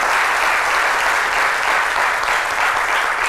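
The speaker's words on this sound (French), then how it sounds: "On applaudit Anissé." A French television studio audience applauds loudly and continuously, a thick, steady roar of clapping hands with no pause for over three seconds.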